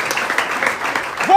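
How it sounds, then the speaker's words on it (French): Congregation clapping at a French-language church service, a short burst of close applause with a voice speaking over it. "Applaudissez pour le Seigneur"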